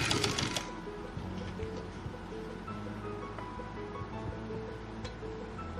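A sewing machine stitches a girls' box-pleated frock, giving a steady, close mechanical whirr that runs without a break and carries no talk.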